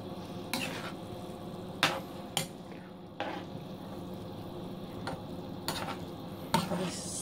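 Steak pie gravy simmering in a pan while a spoon stirs through it, with soft scraping strokes and a few sharper knocks against the pan over a low, steady bubbling hiss.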